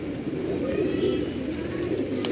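A house pigeon on a rooftop parapet coos in a soft, steady, low murmur that carries on without a break.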